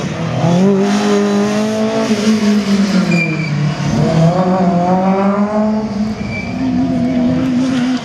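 Citroën Saxo race car with big brakes at a slalom event in Saint-Lô, its engine droning loudly and steadily, pitch rising and falling as the car accelerates and brakes through the course.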